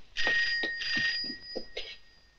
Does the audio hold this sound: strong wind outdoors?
no